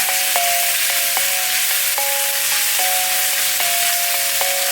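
Beef pieces searing in a hot wok for beef and broccoli, a half batch cooking undisturbed, giving a steady loud broadband sizzle throughout with faint tonal squeaks and occasional light scrapes.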